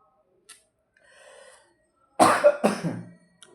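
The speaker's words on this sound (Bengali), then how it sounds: "গলা ঘেমে যাচ্ছে, কাশি আসছে।" Two or three loud, harsh coughs from a man during a Bengali Bhagavat scripture recital, preceded by faint murmuring and followed by a short trailing cough.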